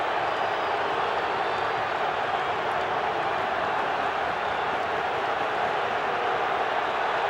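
A large rugby league stadium crowd roars in displeasure during a State of Origin match, a dense, steady wall of distant noise with no distinct claps or voices standing out.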